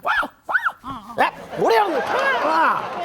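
A voice imitates a dog, yipping and barking in short bursts, then drawing out whimpering, howl-like cries, close and loud.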